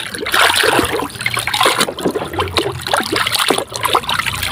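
Water runs and splashes while toy trucks, a mining truck and excavator among them, are being washed, a continuous trickling and sloshing with small irregular splashes close by.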